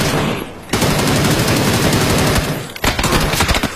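Video game gunfire rattles out in rapid automatic bursts, loud and close, with a brief pause before the shooting resumes in quick repeated shots.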